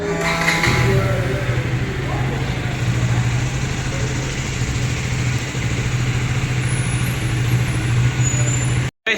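A new vehicle starts up and settles into a steady, humming idle that holds close and even for several seconds before cutting off abruptly at the end.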